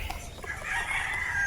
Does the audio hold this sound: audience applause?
no